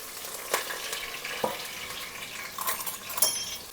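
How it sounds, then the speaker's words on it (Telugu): Onions, green chillies and curry leaves fry in hot oil for a home-style mutton curry, giving a steady soft sizzle with a few utensil clinks and stirring scrapes, close and fairly quiet. "నూనె వేడెక్కింది ఇప్పుడు ఉల్లిపాయలు పోసుకొని పచ్చిమిర్చి కొద్దిగా కరివేపాకు"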